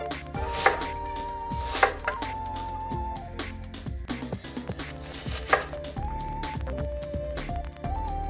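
Knife chopping onions on a cutting board for pea soup, a string of sharp irregular cuts close by, with a few louder thwacks over a busy kitchen background.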